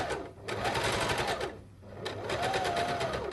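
Sewing machine stitching a sleeve onto a pure silk blouse, running in two steady bursts with a short pause between them, close and clear with no talking.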